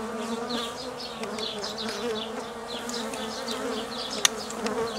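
Honeybees buzz close by at an open hive while a frame is worked, a steady layered insect drone with individual bees sweeping past, and one sharp click near the end.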